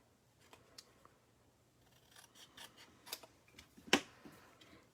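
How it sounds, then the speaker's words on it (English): Scissors trimming paper card in a card-making fold project, a few quiet sparse snips and light clicks close by, with one sharper cut near the end. "So I'm just going to trim it off."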